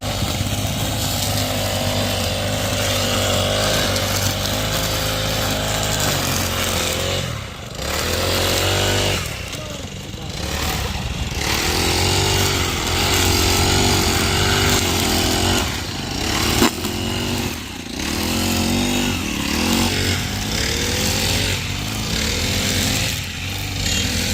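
A grass cutting machine clears roadside grass along the Belhe-Jejuri highway, its engine roaring loud and close in a steady drone that briefly dips and surges as it works.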